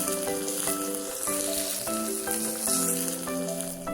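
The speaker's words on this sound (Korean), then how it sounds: "털두부는 털이 주는 불편한 식감을 없애기 위해 생으로 먹지 않고 기름에 튀기듯이 부쳐내는데요" Chinese hairy tofu, a fermented tofu with fuzzy mold growth, pan-fried in oil, giving a steady crackling sizzle under a backdrop of harmonic music, close and even throughout.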